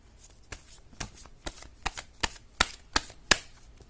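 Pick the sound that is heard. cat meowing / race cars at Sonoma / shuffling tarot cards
shuffling tarot cards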